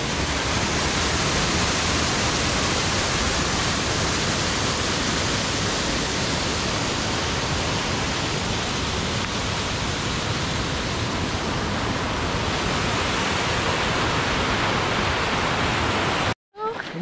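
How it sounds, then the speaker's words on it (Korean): Heavy water pours down a small mountain waterfall, a loud, steady rushing roar heard up close that holds evenly for about sixteen seconds before cutting out abruptly. "조그만 폭포에서 물이 엄청 내려옵니다."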